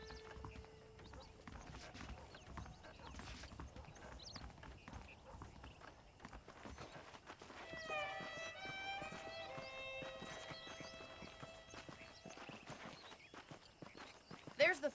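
Steady clip-clop of horse hooves walking in the video game Red Dead Redemption, joined midway by a soft musical tone, with talking over it.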